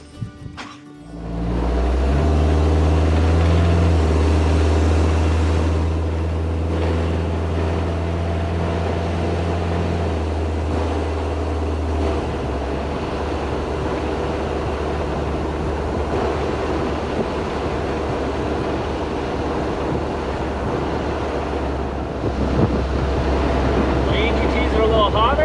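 A diesel-swapped TJ Wrangler engine with a water-to-air intercooler setup and its fuel screw turned out 2.5 turns cranks and starts. It then settles into a loud, steady idle rumble close by and revs up briefly near the end.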